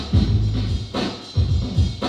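A hip hop record played at normal speed from a record store crate, with a heavy bass-driven beat of booming low kicks and snares in a steady, loud rhythm, alone without talk.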